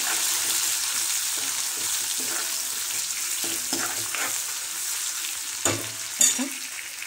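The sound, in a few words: garlic and tomato frying in a pan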